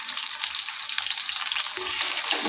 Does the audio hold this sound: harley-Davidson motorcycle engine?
no